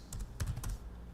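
Keys clatter on a computer keyboard as a terminal command is typed for an Oracle database task, a few quick close taps in a short burst with no voices.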